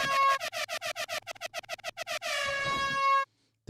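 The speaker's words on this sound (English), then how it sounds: "The fucking air horn." An air horn blares in a rapid stuttering burst of short blasts, then holds one long loud blast before cutting off.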